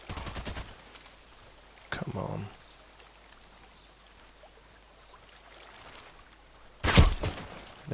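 Sharp gunshots from the Contract Wars video game come in short bursts, a quick volley at the start, another around the two-second mark and a loud crack near the end, with quiet gaps between them.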